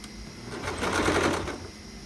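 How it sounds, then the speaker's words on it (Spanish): A sewing machine runs a sport collar seam at one centimetre, giving a close, continuous whirring stitch that swells in the middle and eases off toward the end. "Así mismo lo cosemos a 1 centímetro."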